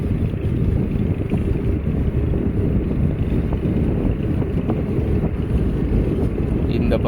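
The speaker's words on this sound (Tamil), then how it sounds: "இந்த பக்கம் ஜிலு ஜிலு ஜிலு ஜிலு ஜிலுன்னு காற்று" Steady wind blowing across a river mouth where it meets the sea, with boats moored nearby; a continuous loud low rush and buffeting on the microphone fills the whole stretch.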